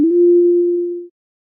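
A single monophonic synth note built in Pure Data with a longer attack time, a pure sine-like tone swelling in smoothly and holding steady for about a second before cutting off cleanly into silence.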